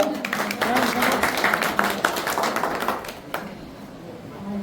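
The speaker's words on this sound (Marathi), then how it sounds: "टाळ्यांचा" Applause at a teachers' felicitation ceremony, a brief burst of crowd clapping of a few seconds that thins out and fades, heard alone at moderate distance.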